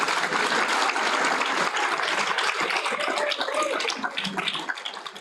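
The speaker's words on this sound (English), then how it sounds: "We can give you a round of applause again." Graduation ceremony audience applauding a cum laude graduate, a steady dense wash of clapping from a large hall crowd that fades slightly toward the end.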